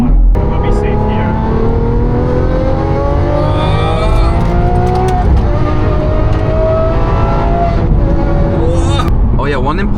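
Lamborghini SVJ with a straight-pipe exhaust driving on city streets in Bangkok, its engine droning loud and close with rising revs and gear changes, plus a brief burst of revving near the end.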